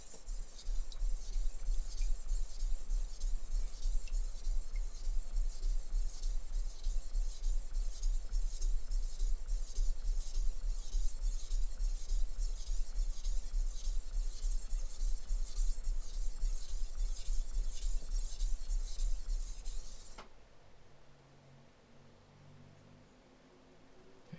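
A knife blade rubbed on a 1000 grit whetstone in steady, even, rhythmic scraping strokes for about twenty seconds, close up, then stopping to near silence.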